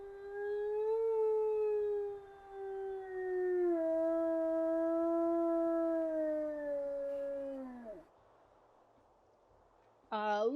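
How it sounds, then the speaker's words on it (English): A wolf in the video game WolfQuest 3 gives a long, high-pitched sustained howl that wavers and falls away, followed by a short rising yelp near the end. "This particular howl is very high pitched"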